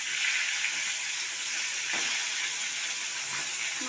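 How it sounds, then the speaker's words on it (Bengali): A fish head fries in hot oil in a wok, giving a steady bright sizzle with a couple of light clicks from the pan. "তেলটা গরম হয়ে গেছে, এবার মাছের মাথাটা ভেজে নেব।"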